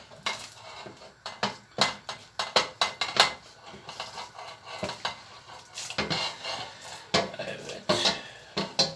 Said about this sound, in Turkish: Şimdi kaynadıktan sonra etimiz etimizi, kellemizi, dilimizi yavaşça çorbamızın içerisinde atıyoruz.